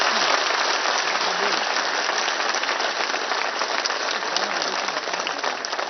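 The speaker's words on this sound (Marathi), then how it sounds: "जरा एकदा दोन हातात टाळ्या तर वाजून दाखवा." A political rally crowd claps hands together in a continuous, broad wash of applause, steady and fairly loud throughout with no break, sounding dense and almost like heavy rain.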